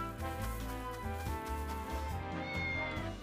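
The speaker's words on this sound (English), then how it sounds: "Cat!" Cat meows come from the video game Triangle Strategy over steady, sustained game music. The music dominates, and the meowing blends in without standing out.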